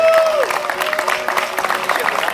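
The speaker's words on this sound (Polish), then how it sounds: "Wielkie brawa dla pana Wojtka" Enthusiastic applause from a sizable crowd at an outdoor company anniversary picnic, loud and sustained, with a brief tone fading out at the start.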